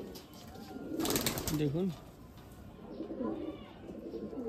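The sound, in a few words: tournament pigeons cooing, female sitting on eggs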